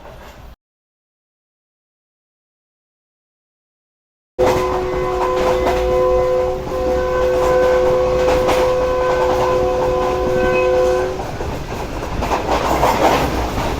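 Pak Business Express train travelling from Karachi to Lahore, a brief burst then a gap, followed by steady rolling rumble and clatter with a sustained horn-like tone, loud and close.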